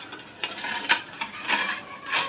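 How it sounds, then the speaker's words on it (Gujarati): Blended tomato soup is strained through a sieve, giving soft scraping, stirring and clinking of a spoon against metal, quiet and close, in uneven strokes with no voices. "તો હવે આપણે આને ગાળી લઈશું"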